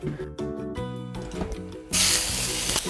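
Oil hitting a preheated frying pan bursts into a loud, close hiss partway through, replacing the calmer tonal sounds heard earlier and holding steady to the end.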